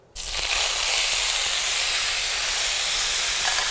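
Drained artichokes hit a hot skillet with a sudden loud sizzle that jumps in and holds as a dense, steady, close hiss of frying.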